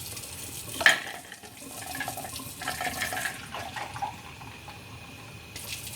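A clear ice ball being rinsed under running tap water at a sink, a steady faint splashing hiss with small clinks and bursts of water, fairly quiet and without voices.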